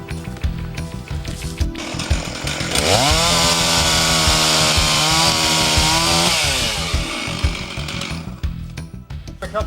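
A chainsaw nips away the last bit of hinge wood on a felled tree, the engine revving up to a loud sustained cutting whine for several seconds before dropping back to a rough idle.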